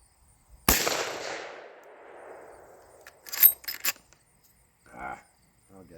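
A single sharp report from a Marlin 45-70 or trapdoor Springfield rifle cracks out loud and close, its boom rolling away over about two seconds before some quieter clattering and handling sounds follow.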